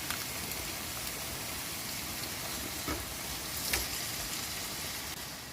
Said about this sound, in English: it's a satisfying sizzle.